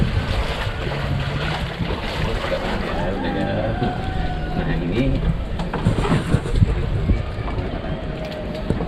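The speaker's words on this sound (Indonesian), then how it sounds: "Hari Kita sudah ada di atas perahu" A boat moves across open sea toward an island, with steady engine and water rush mixed with wind buffeting the microphone, while people talk over it throughout.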